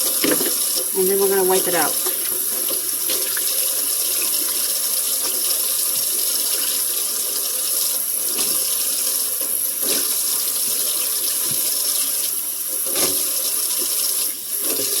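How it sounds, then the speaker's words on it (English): Kitchen sink draining water, a steady continuous rush and gurgle running throughout, with a person talking briefly near the start. "Let's drain the sink,"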